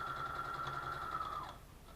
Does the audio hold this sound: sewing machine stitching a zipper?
yes